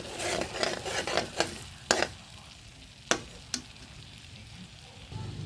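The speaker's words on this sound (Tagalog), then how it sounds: "Once na mag-melt na yung butter, ilagay natin yung bawang at saka yung sibuyas. Ayan, igisa natin for a few seconds." Garlic and onion sauté in melted butter in a pan for carbonara, giving a steady close sizzle with scraping stir strokes and a few sharp spoon knocks against the pan.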